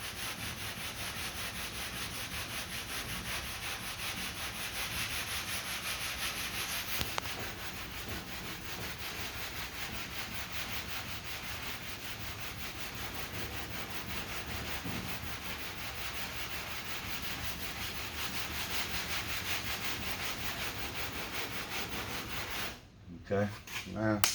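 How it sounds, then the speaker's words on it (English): Hand sanding of bondo body filler on a repaired car body panel makes a continuous, close scratchy rubbing with a steady back-and-forth texture, broken only by a brief pause near the end. "sand from here to the edge."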